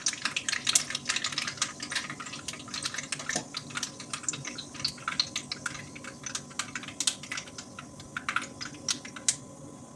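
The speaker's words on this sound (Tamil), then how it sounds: "எண்ணெய் காஞ்சிடுச்சு, நான் கடுகு போட்டுக்கிடுவேன்." Mustard seeds crackle and sputter in hot oil in a pan, a dense run of sharp little pops and crackles going on steadily throughout with no talk.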